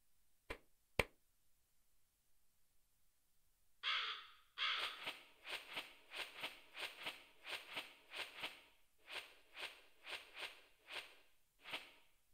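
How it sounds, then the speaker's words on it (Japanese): A Kasugai crow in Demon Slayer Hinokami Chronicles caws in a quick series of sharp, rhythmic calls after two crisp snaps, close and clear against near silence. "カスガイガラスは主に連絡用のカラスでございます。"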